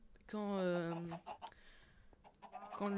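Chickens cluck in a video game farm, with two drawn-out, bright clucking calls at the start and end and short pecking clicks in between, heard close and clear.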